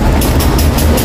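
A subway train rattling along its tracks, loud and close, with a heavy low rumble, a hissing roar and rhythmic clicks from the wheels passing over rail joints.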